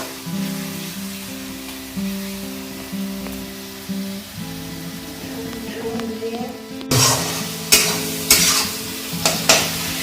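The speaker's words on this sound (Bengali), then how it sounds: "কেটে রাখা পেঁয়াজগুলো ভালো করে ভেজে নেওয়া হচ্ছে এর মধ্যে শুকনো লঙ্কার গুঁড়ো আর হলুদ গুঁড়ো আর কিছুটা লবণ দিয়ে এগুলো ভেজে নেওয়া হচ্ছে" Chopped onions frying in oil with chili powder, turmeric and salt for a mutton curry, a soft sizzle under steady tonal background sound, then louder stirring scrapes and clatters of a utensil against the pan near the end.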